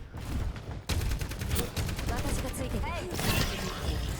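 Rapid automatic gunfire from the video game Overwatch, dense crackling bursts layered with impacts and ability effects, starting after a brief lull and continuing loudly throughout.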